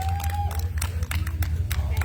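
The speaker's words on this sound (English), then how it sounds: "Let's have a round of applause for Bree Cash, your street trophy winner." Scattered outdoor clapping from a drag race crowd greeting the street trophy winner, sparse uneven claps over a steady low engine rumble and faint crowd murmur.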